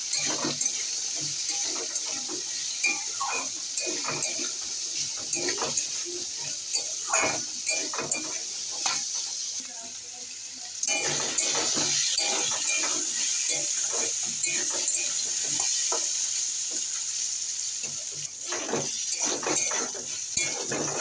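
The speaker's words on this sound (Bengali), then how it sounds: "এবারে আমি আলুগুলো আগে ভেজে নেব। আমি একটু হলুদ দিয়ে ভেজে নেব।" Potatoes with a little turmeric fry in a pan in a steady, fairly close sizzle, with frequent scraping and stirring clatters throughout and no talk.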